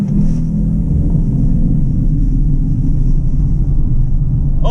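Polestar 2 dual-motor electric car pulling away hard on the Goodwood Motor Circuit, a steady loud low rumble and road roar with no talk over it.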